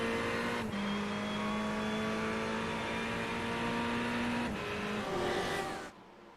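GT3 race cars, a Ferrari close behind a Lamborghini, roar past with sustained high-revving engine tones that shift pitch on gear changes, fairly close, before the sound drops away abruptly at the end.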